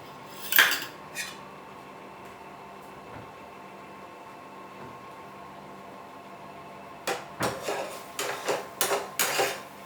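Semolina sheera with ghee being stirred in a pan, heard as a spoon scraping metal: a few sharp clinks early on, then a quick run of repeated scrapes and taps near the end, with no talk.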